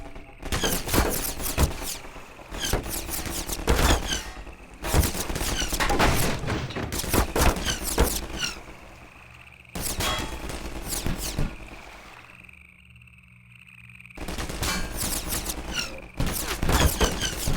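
Dense, rapid gunfire from the VR version of the Half-Life 2 video game, with repeated loud bursts and volleys across the whole stretch and only a brief lull near the end.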